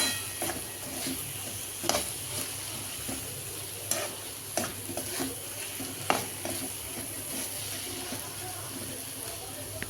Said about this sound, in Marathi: आता याला थोडंसं आपण मिक्स करून घेऊया.